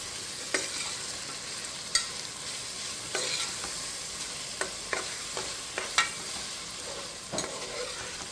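Tomatoes and fresh coriander cook in a pan for tomato rice, with a steady soft sizzle broken by about ten sharp clicks of a spoon stirring against the pan, close and clear.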